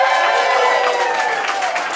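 A live podcast comedy show audience in Los Angeles claps and cheers in a steady, dense wash of crowd noise that holds loud for the full stretch, with no clear individual voices.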